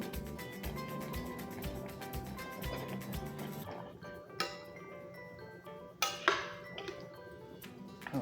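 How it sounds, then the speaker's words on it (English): Potatoes dropped into a pot of coconut fish head soup, with clinks and knocks of pots and utensils, a few louder thuds standing out against steady background music. "now I'm adding my potatoes."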